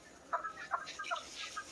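Chickens in a hot farm shed give several soft, short clucks in a loose uneven rhythm, fairly close but quiet over a faint background hum, with no talk.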